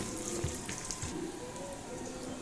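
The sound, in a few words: snack mixture frying in a pan after adding salt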